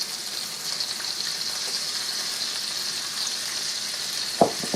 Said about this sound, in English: I'm going to add the potatoes now